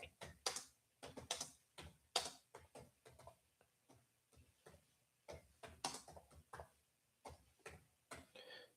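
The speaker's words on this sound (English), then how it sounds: "Typing one hand here's a little tough." One-handed typing on a keyboard gives faint, irregular clicks and taps in short bursts, close and quiet, with no talk over them.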